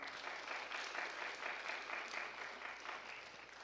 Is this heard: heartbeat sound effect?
no